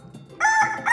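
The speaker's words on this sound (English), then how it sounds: "the early morning wake-up calls of 2 roosters crowing seriously loud from my bedroom began" A rooster crows loudly and close, one drawn-out cock-a-doodle call rising after a quiet start, with no talking.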